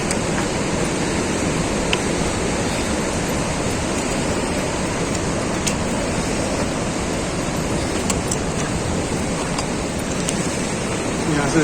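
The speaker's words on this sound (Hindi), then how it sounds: "भागीरथी रिवर में, जो कि बहुत तेज बह रही है" The Bhagirathi river rushes fast below a mountain trail near Gaumukh, a loud, constant roar of whitewater with no breaks.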